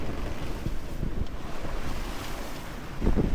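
Steady wind rushing over the microphone with open-sea waves washing against a moving sailboat between Corsica and Sardinia, a continuous roar that swells slightly near the end.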